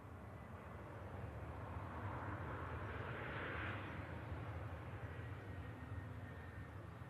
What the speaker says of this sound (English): Ryanair just coming on in next. 737.